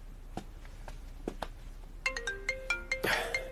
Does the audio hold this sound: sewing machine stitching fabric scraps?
no